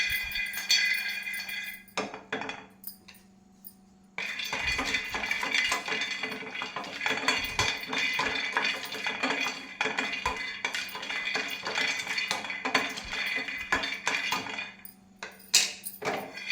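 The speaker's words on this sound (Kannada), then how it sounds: "ನಾಲ್ಕು ಏಲಕ್ಕಿಕಾಯಿ ಇದನ್ನು ಹಾಕೊಂಡು ಸ್ವಲ್ಪ ಹುರಿಯೋದು" Four cardamom pods being roasted in a pan, giving light metallic clinks, scrapes and rattles of utensil against pan, scattered and irregular, close and moderately loud, with a short quiet break.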